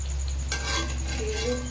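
Goat fat fries in oil for chops with a constant, close hiss, a low hum underneath and a brief metallic clatter of stirring partway through.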